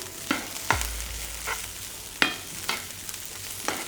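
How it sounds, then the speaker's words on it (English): Vegetables and parsley frying fast over high heat give a soft steady sizzle, broken by sharp clacks of a utensil stirring the pan roughly every half second to second. Close and moderately quiet, with no talking. "I'm just going to fry that nice and quickly on a high heat."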